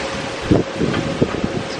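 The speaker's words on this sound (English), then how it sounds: "it's a bit windy" Gusty wind buffets an outdoor spot-welding setup, with loud rumbling microphone wind noise and a few short bursts, no speech.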